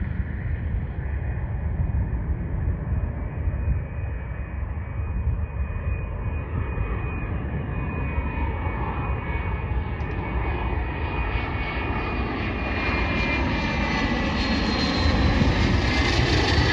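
A Boeing 737 MAX 8 jet at Dallas Love Field gives a loud, steady engine roar with a broad rumble and a sustained high whine, swelling slightly as it nears, with no talking.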